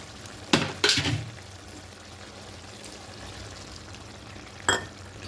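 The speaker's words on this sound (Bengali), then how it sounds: "বাটি ধুয়ে জলটা একটু দিয়ে দেবো" Water from rinsing a bowl splashes into a hot pan of potato and spinach, two quick pours near the start and another near the end, each raising a brief loud hiss over quieter background sizzle.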